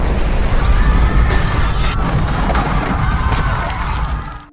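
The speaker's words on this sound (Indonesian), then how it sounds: "terjadi sebuah ledakan besar dari dalam bandara" A big explosion inside an airport in an action film, a loud roaring blast with a sharp burst of debris partway through, then a long rumbling decay that fades out at the end.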